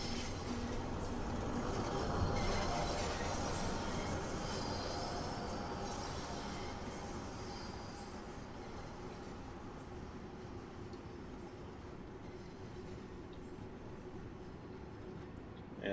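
A London Underground Bakerloo Line train in the Train Sim World 2 game runs steadily at low speed, a continuous rumbling roll with faint wheel squeal, fading slightly over time with no talk.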